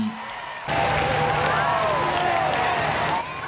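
A large crowd outside Buckingham Palace cheers the royal family during the Platinum Jubilee celebrations, a dense roar of voices and whoops that surges in suddenly and holds steady at a distance.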